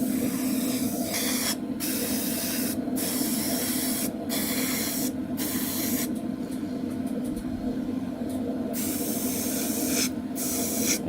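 An airbrush or spray can hisses in short bursts while painting the cockpit tub of a 1/48 scale AMK F-14D Super Tomcat model kit, a close, steady hiss broken by brief pauses, with no one speaking.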